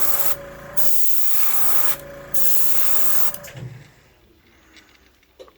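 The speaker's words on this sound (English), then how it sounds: "I'm keeping the gun away from the lip as I'm spraying" Three bursts of hissing spray from a spray gun coating a vintage Wiggle Wart fishing lure, each about a second long with short pauses between, close and loud, followed by quieter handling noises.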